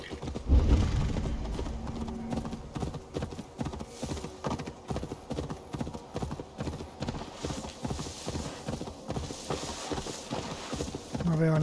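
Horse hooves clip-clopping in the Assassin's Creed Valhalla video game, a steady rapid trotting rhythm close and clear over a background game soundscape, with a brief thump at the start.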